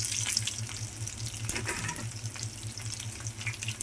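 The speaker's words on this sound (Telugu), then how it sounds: "అలాగే ఉల్లిపాయ ముక్కలు కూడా వేసుకుంటున్నానండి" Onion pieces dropped into hot tempering oil with mustard seeds in a pan sizzle continuously, a close, bright crackling hiss with small bursts of spatter throughout.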